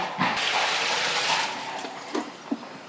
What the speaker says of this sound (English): to each barrel, I'm going to add 15 litres of water, so literally 1 bucket per bag